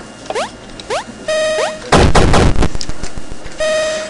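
Shotgun blasts in the video game Super Crate Box: a dense, loud burst of rapid shots with crunchy impacts, set between chiming electronic game tones.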